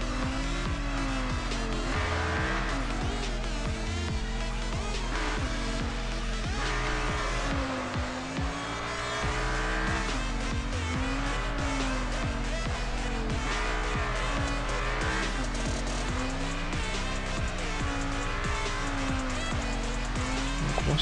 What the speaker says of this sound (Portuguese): Depois eu vou fazer uma corrida com outro carro que eu tava usando antes.